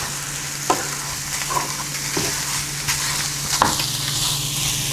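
A low calorie chicken dish frying in a pan, stirred and levelled with a utensil: steady close sizzle with scattered scraping taps and stirring knocks, and no talking.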